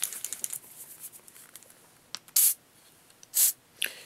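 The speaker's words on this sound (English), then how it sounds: "what you want to do is you want to spray into this area right here where the Serpa lock is" Two short hissing bursts of silicone lubricant spray aimed into the Serpa lock area of a Blackhawk Serpa holster, close and fairly loud, with light handling clicks in between and no talking.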